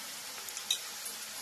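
Spoon stirring turmeric, salt and spice mixture into Shravan ghevada (flat bean) bhaji in a pan, a soft continuous scraping sizzle with one small clink, close and steady.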